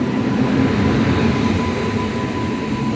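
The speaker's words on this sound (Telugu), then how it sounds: "నర్సాపూర్ గుంటూరు ఎక్స్ప్రెస్ 3వ నెంబర్ ప్లాట్ఫామ్ మీదకి అయితే వస్తుంది" Narsapur–Guntur Express hauled by a WAG9 electric locomotive pulling into platform 3 at a crowded station: a loud, continuous rolling roar of wheels and coaches with a faint thin tone running through it.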